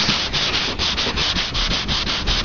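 A hand sanding block rubs over body filler on a 1996 Jeep Grand Cherokee panel in quick, even back-and-forth strokes, a close, loud rasping rhythm with no talk.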